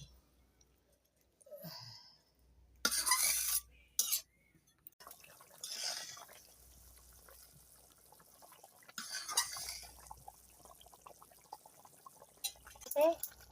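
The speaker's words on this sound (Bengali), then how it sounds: "এবারে পরিমাণ মতন জল দিয়ে দিছি।" Water poured into a cooking pot of fish heads and fish, heard as a couple of short, splashy pouring bursts between quiet stretches, with a voice and a cough now and then.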